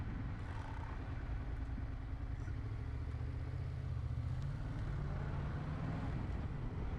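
Motorcycle engine heard while riding on a road, a steady low drone with mild rises in pitch, fairly quiet and continuous throughout.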